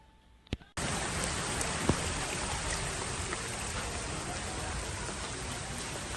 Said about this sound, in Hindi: जिस हिसाब से बरसात हो रही है देखिए आप, रोड में उतना कीचड़ नहीं है, पानी अपने रास्ते बह रहा है।